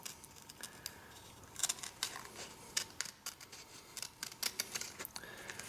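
Sharp scissors snip a spiral through squirrel rawhide, a string of brief crisp cuts that start sparse and quicken into steady clusters, close by and fairly quiet, with no talk.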